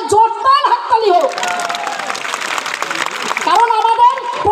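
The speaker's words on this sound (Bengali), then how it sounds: "হাসনাবাদ থানার জন্য ভারপ্রাপ্ত অফিসারের জন্য একটা জোরদার হাততালি হোক।" A crowd at an outdoor protest meeting breaks into a burst of loud clapping that sustains for a few seconds between stretches of amplified speech.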